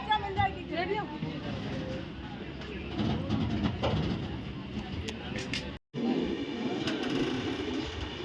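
A passenger train pulls out of Khurai station with a steady low rumble and rattling carriages, heard from inside among passengers talking, with a brief dropout near the end.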